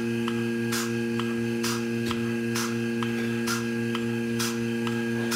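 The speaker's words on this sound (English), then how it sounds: "since this is all vacuum driven, the milking machine needs a vacuum to work" A vacuum-driven dairy milking machine runs steadily in a milking parlor, giving a constant loud mechanical hum with regular rhythmic pulsing hisses about once a second throughout, with no talking.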